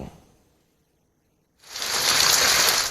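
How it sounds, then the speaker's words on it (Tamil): Steady heavy rain falling across Chennai and its suburbs, a dense broadband hiss that starts abruptly after a near-silent pause and continues loud to the end. "சென்னை மற்றும் அதன் புறநகர் பகுதிகளில் பரவலாக மழை பெய்தது"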